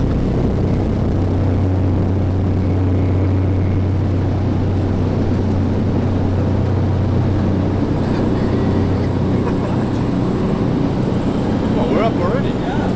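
Airplane cabin noise during a flight to Molokai, Hawaii, a steady loud engine drone and rush that holds constant throughout, with no talk.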